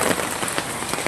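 Steady rain falls outside a home on a school morning, a dense, continuous hiss of drops on surfaces that stays even and fairly loud throughout with no voices.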